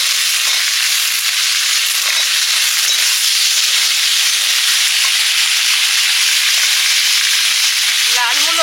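Red radish pieces fry in hot oil tempered with five-spice, giving a loud, dense, continuous sizzle close by. A brief stir rattles in near the end.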